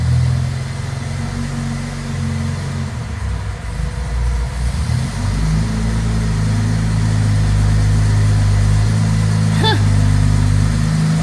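A 1962 Jaguar E-Type engine runs steadily with a deep, continuous rumble and low hum, close by, with a brief higher whine near the end as the fan works.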